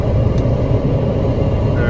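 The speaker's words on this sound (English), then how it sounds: "Excuse the fan, it's on full blast." An electric fan running on full blast outdoors in cold winter wind, giving a steady, loud broadband whoosh that stays constant throughout, with no clear speech.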